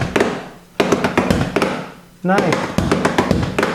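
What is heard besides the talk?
drumsticks hitting homemade practice pads of books and cushion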